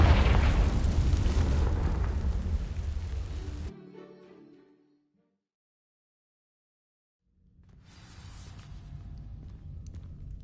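Confringo fire spell in Hogwarts Legacy bursts into dry vines, a loud roaring eruption with crackling that cuts off abruptly, then after a few seconds of silence a quieter rumbling burn returns.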